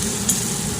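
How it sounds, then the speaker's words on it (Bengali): Chopped onions frying in a pan give a steady, even sizzle with faint stirring, close and moderately loud, with no voices. "পেঁয়াজ ভাজা হয়ে গেছে।"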